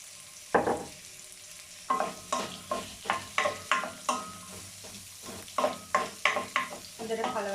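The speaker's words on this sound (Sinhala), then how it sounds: "හොඳට කලවම් කරගෙන ලුණු ටික මැලවෙන්න අරින්න." Onions sizzle in hot oil while a spoon stirs them in quick repeated scrapes and clacks, a near, rhythmic stirring over a constant frying hiss.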